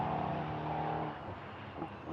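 LMP3 race cars at the Brands Hatch GP circuit send out a sustained, fairly faint engine note that holds steady, then dips slightly and fluctuates as the cars move on.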